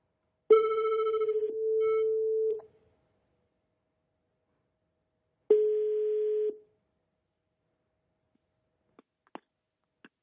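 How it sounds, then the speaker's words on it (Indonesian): Telephone ringback tones while a call connects: a long buzzing tone pulse, a pause, then another shorter tone, followed by faint clicks as the line picks up, with silence between. "Kita telepon coba Master Kontrol sambungin deh."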